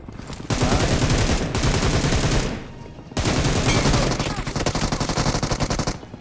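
Sustained automatic gunfire from enemies up on a hill in the mobile shooter BGMI, loud dense bursts filling two long stretches with a brief lull between, ending in a rapid chattering volley.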